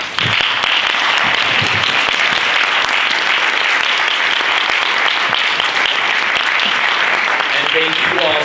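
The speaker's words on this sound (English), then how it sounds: "can we all give you a big round of applause?" Audience at a United Way Bay Area partner convening applauding event staff, a dense, loud, sustained clapping from a full room with a few voices mixed in.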